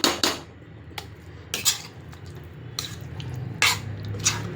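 A metal spoon scrapes and clinks against a cooking pot while stirring masala for bisibelabath, in several separate strokes, with a low steady background hum between them.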